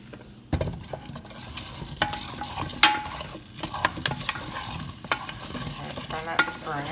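Golden potatoes stirred in a pan for vegan curry, close scraping and clattering spoon strokes over a soft continuous sizzle, irregular knocks recurring every second or so.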